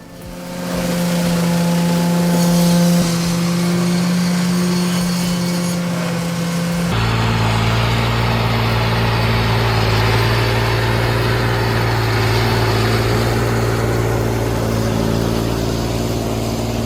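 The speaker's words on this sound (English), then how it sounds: "Just a minute ago, this was just your average farm tractor doing routine field work. Hooked up to the Model 1710" A farm tractor engine drives a Model 1710 stump grinder. A steady mechanical drone with tonal hum runs first, then abruptly shifts into a heavier, louder, deeper roar that holds for the remaining ten seconds, with no talking.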